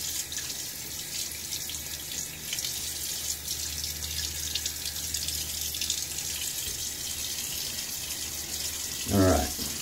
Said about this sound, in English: I am going to rinse off the tub here.